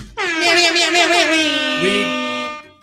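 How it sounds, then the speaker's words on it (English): A loud, sustained air horn blast during a pub quiz night, bright and brassy, holding steady for over two seconds before fading out. "Hit that air horn."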